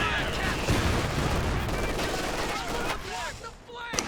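Incendiary-round machine gun fire in Company of Heroes 2, rapid bursts of shots amid battle noise, thinning toward the end with a sharp final crack, mixed with voices.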